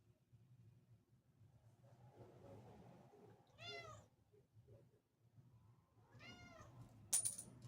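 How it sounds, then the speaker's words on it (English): A cat meows twice, quiet and close, with a few seconds between the calls, over a low steady room hum, followed by a brief sharp clink. "Come on, kitty, move."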